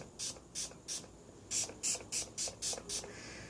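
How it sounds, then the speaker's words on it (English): A series of short, sharp bursts of aerosol grooming spray on hair, about ten quick hisses in an uneven rhythm, close up with no talking. "this is where the grooming spray comes in. So as I said, this actually activates as a glue"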